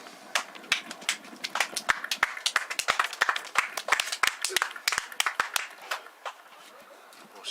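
Scattered applause from a small group of people for a departing batsman at an amateur cricket match, a loose run of separate hand claps close by that thins out after a few seconds, with a voice talking.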